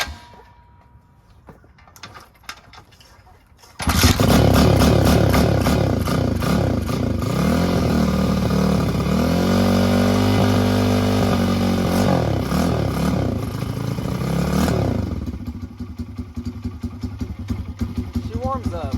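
A Tao Tao DBX1 140cc dirt bike engine idles loud and close after a short quiet start, warming up on choke with an uneven, chopping beat before easing off toward the end.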